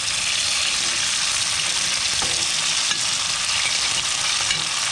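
Potato pieces for patatas bravas fry in hot oil with a loud, constant sizzle and occasional stirring scrapes, close and steady with no voices.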